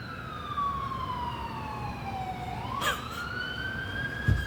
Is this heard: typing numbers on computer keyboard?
no